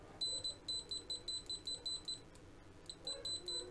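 A ZOYI ZT-MD1 LCR meter beeps in a fast, repeated pattern of short, high electronic tones during a continuity check. It pauses briefly and then resumes, faint but clear against a quiet background.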